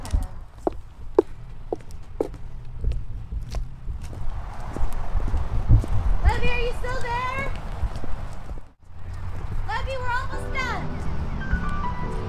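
Horse hooves clip-clop at a zoo in a steady, close rhythm, with children's voices and chatter mixing in and sometimes drowning it out.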